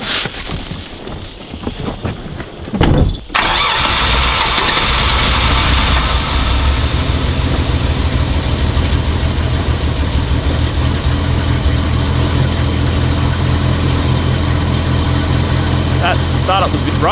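A heavy Nissan Patrol GU 4x4 engine cranks and catches after a few seconds, then settles into a loud, steady, slightly rough idle close by.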